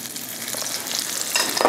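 Eggplant slices frying in a fry pan give a steady close sizzle and crackle that grows a little louder near the end, with no talking.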